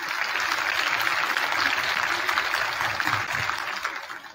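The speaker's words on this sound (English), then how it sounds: "If we could please give her a round of applause." Audience applause at a middle school cabaret concert, steady dense clapping from a seated crowd filling the room at moderate loudness, sustained throughout without speech.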